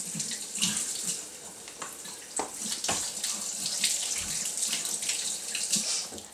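Tap water runs steadily into a sink during handwashing, a continuous close splashing with small irregular surges as hands move under the stream, no talking.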